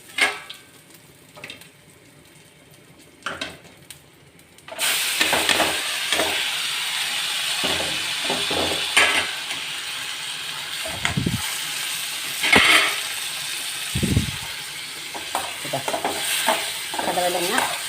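Dried red chili and curry leaves crackle and sizzle in hot oil, a steady frying hiss that starts abruptly and continues with occasional stirring clatter from the pan.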